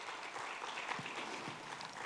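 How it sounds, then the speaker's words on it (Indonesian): Applause from a large audience at a university alumni opening ceremony, a steady, faint wash of many hands clapping from a distance, with no clear individual claps standing out. "Boleh kita berikan tepuk tangan yang paling meriah."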